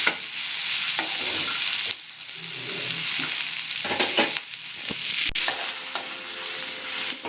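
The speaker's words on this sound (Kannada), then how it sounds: "ಕೊಬ್ಬರಿ ಆಗ ಚೆನ್ನಾಗಿ ಥರ ಫ್ರೈ ಮಾಡಿ" Dry coconut is fried in a pan for a Mangalore-style dish, with a steady sizzle and repeated scraping stir strokes from a ladle running continuously at close range, with no voices.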